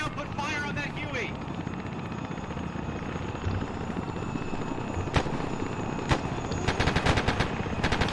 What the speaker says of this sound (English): The Huey's coming toward us